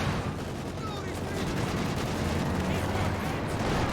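A Maxim machine gun fires continuously in the World War II strategy game Company of Heroes 2, a dense steady rattle under layered battle noise and other distant gunfire.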